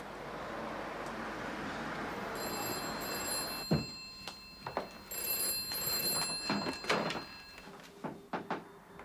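A telephone rings in repeated bright bell bursts, moderately faint, over room noise with scattered knocks and handling thumps in an indoor setting.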